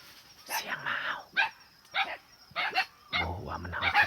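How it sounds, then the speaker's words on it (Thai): A dog barks at a forest campsite near a tribal hut, about six loud, fairly close barks spaced roughly half a second to a second apart. "เสียงหมาเห่า"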